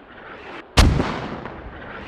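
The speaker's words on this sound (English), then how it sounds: "I do like these mortars. Very, very danger close." A single heavy mortar blast booms in the Squad military video game, a sudden loud impact that rolls off into a fading rumble and leaves quieter gunfire-filled ambience around it.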